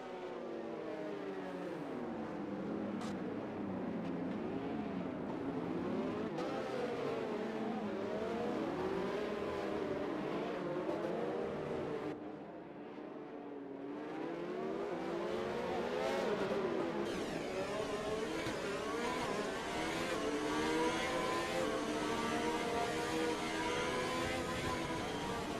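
Formula 1 cars racing around the Monaco street circuit in the F1 2020 video game, with a continuous high engine whine rising and falling through gear changes, loud and steady with a brief dip midway.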